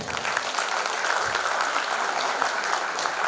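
Audience applause at a school reunion celebration: dense, steady clapping from a full crowd, loud and continuous throughout with no voices standing out.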